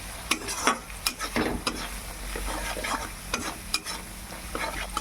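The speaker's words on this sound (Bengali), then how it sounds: "এগুলোকে এবার ভালো করে মিশিয়ে নেব।" Spices with chilli, turmeric and salt being stirred and fried in a pan for a fish and new potato curry, a continuous soft sizzle under repeated clinking, scraping spoon strokes.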